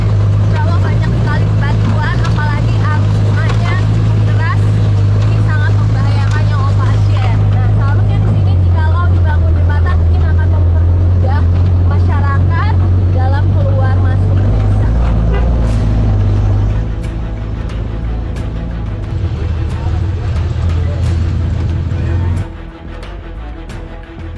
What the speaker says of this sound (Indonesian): Melalui jalan tanah yang licin dan lembek bekas guyuran air hujan, membuat ban mobil off-road sering slip dan terpleset di antara lumpur.